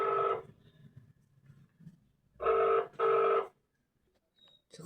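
A telephone rings in short electronic bursts, one near the start and then two back to back, with quiet room noise between them and no talking.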